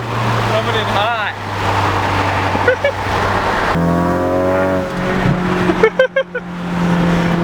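A Ford Mustang launches hard from a standstill and accelerates, its engine note climbing steadily, dropping briefly at a shift and then rising again. The engine is loud and close, with sharp bursts of a person cheering over it near the end.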